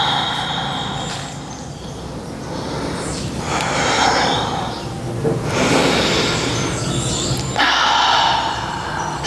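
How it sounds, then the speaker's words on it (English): Deep, slow yoga breaths during an outdoor vinyasa flow come as long airy inhales and exhales, close and fairly loud, swelling and fading every few seconds. "Taking a few more rounds of breath here."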